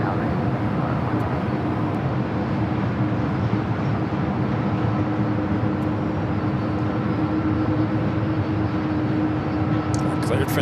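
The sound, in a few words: Singapore Airlines airliner taking off at LAX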